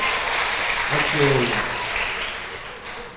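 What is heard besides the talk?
congregation applause in church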